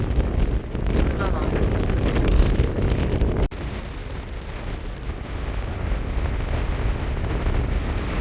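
Strong gale-force wind buffets the microphone at a Jeju beach during a high-wind advisory, a loud, continuous roar with gusty surges throughout, and a brief spoken exclamation heard over it.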